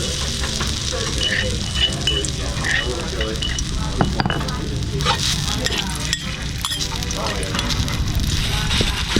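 Chili fries in pork belly oil for a Northern Thai Nam Prik Ong dipping sauce, a loud, close, continuous sizzle and crackle with scattered stirring clatter.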